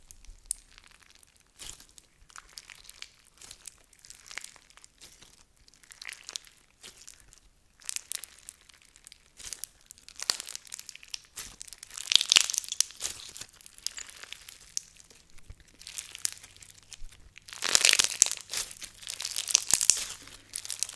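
Crunchy slime squished by hand, producing bursts of crackling and crinkling pops that come and go, louder toward the end, with no talking.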